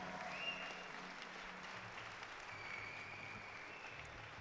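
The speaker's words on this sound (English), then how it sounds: "one more time, a round of applause for Stefano Ghisolfi" Applause for climber Stefano Ghisolfi at the opening of the Black Diamond climbing competition, a faint, steady wash of clapping from a distant crowd that holds even throughout.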